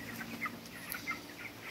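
Broiler chickens about 24 days old cluck inside a poultry house, with short, overlapping calls over a constant hum of the shed. No one speaks.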